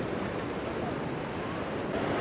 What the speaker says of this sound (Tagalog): It's napakalakas ng alon.